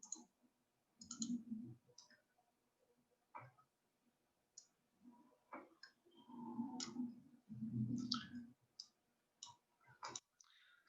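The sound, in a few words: computer mouse clicking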